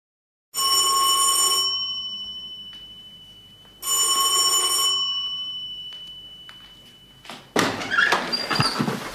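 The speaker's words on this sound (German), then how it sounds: "Was klingeln Sie denn wie verrückt?" A doorbell rings in a German crime radio drama, two long shrill metallic ringing bursts in succession, loud and close, followed by a door being opened with clatter.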